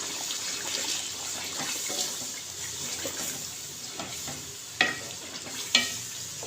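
Half a cup of water goes into a frying masala gravy for chicken with bitter gourd, giving a steady close sizzle and bubbling with a couple of sharper splashes near the end.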